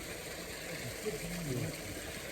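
Water rushes steadily at Tat waterfall, a dense continuous roar close by, with someone talking faintly beneath it.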